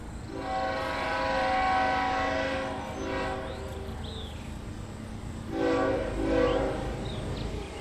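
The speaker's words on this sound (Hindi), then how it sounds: "राहुल और अक्षय मुंबई के लिए एक ट्रेन पकड़ लेते हैं।" A train rumbles along with a loud horn sounding in two long blasts, the second after a short pause, over steady rolling rail noise, with no voices.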